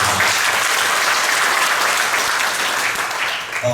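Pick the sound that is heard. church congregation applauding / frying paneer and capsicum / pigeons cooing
church congregation applauding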